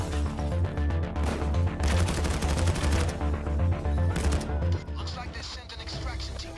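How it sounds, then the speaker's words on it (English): Gunfire in a video game, bursts of rapid shots and impacts layered over game music and effects, loud and dense before easing off. "Don't mind the gunshots,"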